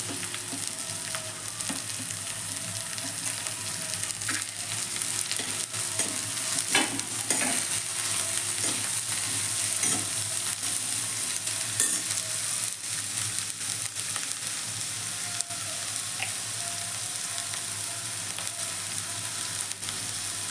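Cabbage and capsicum fry in a pan for dry Manchurian with a steady close sizzle, broken by occasional scrapes and clinks as the vegetables are stirred.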